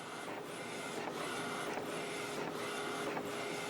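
An Epson Artisan 1430 inkjet printer prints on matte paper with refillable pigment ink, its print head sweeping back and forth in a steady, repeating whir with regular pulses, close and continuous.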